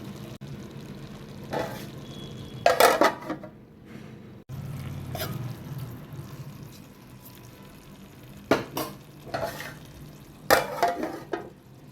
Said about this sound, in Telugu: ఇప్పుడు కట్ చేసి పెట్టుకున్న మెంతాకును వేసుకుందాము